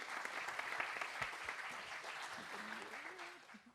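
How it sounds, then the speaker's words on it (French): Quiet, distant audience applause rolls on as a steady patter of claps, thinning toward the end as a voice begins speaking over it. "Bravo, on va applaudir parce que c'est super."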